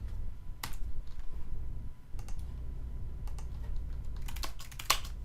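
Fingers tap on a computer keyboard in uneven bursts of quiet clicks, nearby, over faint room hum and without speech.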